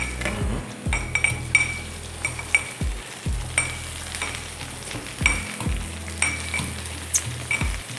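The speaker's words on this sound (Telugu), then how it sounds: "గోంగూర కూడా మనం ఫ్రై చేసేసుకుందాం." Gongura leaves fry in hot oil with a steady crackling sizzle, broken by repeated clinks and scrapes of a metal spoon stirring against the pan, close and fairly loud with no talking.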